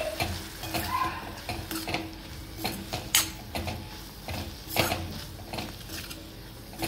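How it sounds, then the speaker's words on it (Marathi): Fenugreek leaves mixed with crushed peanut powder are stirred in a pan, with repeated scraping strokes and soft sizzling at close range and no talking. "हे छान हलवून घेऊ आपण।"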